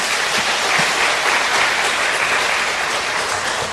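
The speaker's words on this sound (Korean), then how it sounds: "우리 강사님 나오실 때 오늘도 박수로 환영하겠습니다" Dense, continuous applause fills a Korean church revival meeting as the congregation welcomes the guest speaker, steady and loud from start to finish.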